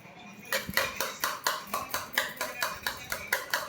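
Dice being shaken and thrown for a prize, a run of about a dozen sharp, evenly spaced rattling clicks, close and fairly quiet, with faint talk behind.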